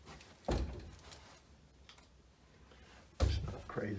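The plastic door of a Honeywell T6 thermostat snaps shut with two quiet clicks about three seconds apart, close to the mic in a quiet room.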